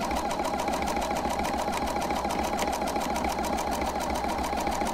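Steady, fast mechanical whir of a sewing machine stitching scrap fabric wrapped around rope to form a trivet, running continuously and close at constant speed with no pauses.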